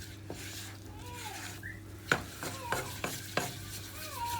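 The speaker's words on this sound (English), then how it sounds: "the trick here is to make sure you cook this roux out first" A butter and flour roux is stirred in a pan for white sauce, with a soft sizzle under repeated scraping strokes of the utensil, close and fairly quiet with no talking.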